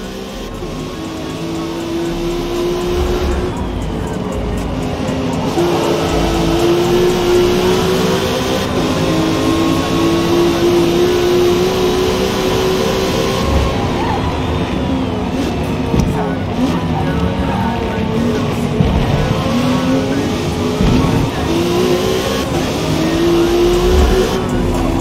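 Race car engines in an A-Class race in Forza Motorsport, a sustained loud drone of revving and shifting engines rising and falling in pitch throughout, with a voice speaking over the cars at times.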